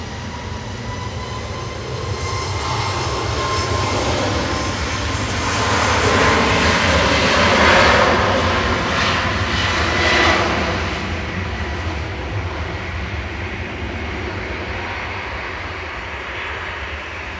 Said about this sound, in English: Ryanair's lining up to depart to Brussels adjacent to Charleroi.